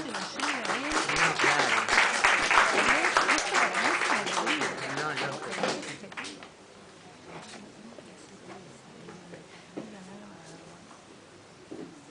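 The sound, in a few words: applause for the musician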